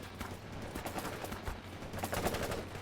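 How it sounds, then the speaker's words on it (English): Rapid gunfire from the World in Conflict real-time strategy game, dense overlapping bursts of rifle and machine-gun fire sustained throughout as a continuous loud battle din. "We're under fire!"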